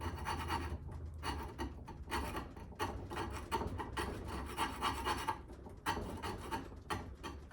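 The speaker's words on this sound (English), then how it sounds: "I have this file, I might be able to use that." A metal file rasps back and forth over an old axe head, scraping off built-up gunk and tarnish in steady, fairly close strokes with brief pauses between them.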